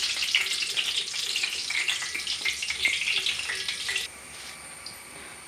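Suiyan snack batter frying in a pan of hot oil at home, a bright busy crackling sizzle that runs steadily, then drops to a quieter simmer near the end.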